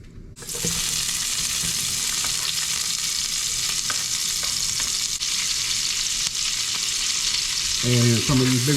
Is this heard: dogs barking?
no